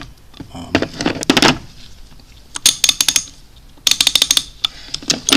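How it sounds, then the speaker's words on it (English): A fine-toothed 1/2 inch drive ratchet clicks in quick bursts of rapid ticks, three separate runs with short gaps between them, close and crisp. "This is the 1/2 inch drive ratchet. It's actually a pretty good ratchet. It's decently fine toothed."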